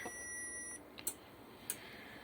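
A cheap Chinese 3000/1500 W inverter fails to start, giving a steady high electronic tone that cuts off, followed by a few short faint beeps; quiet and without speech.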